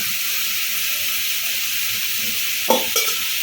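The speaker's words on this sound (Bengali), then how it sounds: "এবার আমি একটু জল দিয়ে ঢেকে দেবো" Water poured into a pan of frying pointed gourd brings a sudden burst of sizzle and hiss over a steady background hiss, with a second smaller flare just after.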